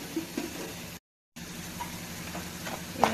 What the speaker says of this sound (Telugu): ఇదండి ఇట్లా గోల్డెన్ కలర్లో రావాలి, దూరంగా వేయించుకోవాలి.